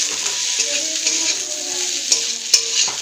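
Vegetable chorchori sizzles steadily in a hot pan while a spoon stirs and scrapes through it, with a couple of sharper clinks standing out near the end; no one speaks.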